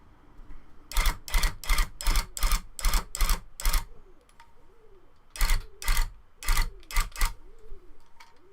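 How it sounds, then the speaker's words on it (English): Wood pigeon cooing outdoors, heard as two bursts of rhythmic repeated calls, the first eight pulses in quick succession, a pause, then about six more, fairly close and clear, with a faint background hiss. "I can hear a wood pigeon outside."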